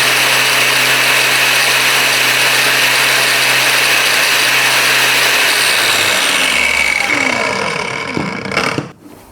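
A Blackfoot 4-inch cordless brushless angle grinder running at its top speed setting, a loud steady high-pitched whir that is switched off and winds down over the last few seconds, ending in a clack.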